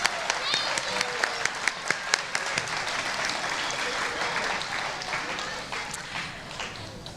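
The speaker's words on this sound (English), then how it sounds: "Let's give them another round of applause." An audience at a celebration event breaks into applause, with a few sharp individual claps at first that swell into a steady wash of clapping and then slowly thin out.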